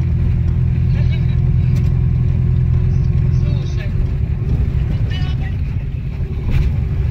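A ZAZ-965 Zaporozhets, the humpbacked Soviet small car, runs with a loud, steady low engine drone close by; its rumble stays constant throughout with no clear starting crank.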